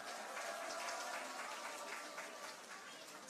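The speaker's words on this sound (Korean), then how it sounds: "부산 진구갑 서병수 국회의원님 환영의 박수를 부탁합니다." Sustained applause from a sizable crowd at a political party's New Year gathering in Busan, steady and even throughout, fairly distant.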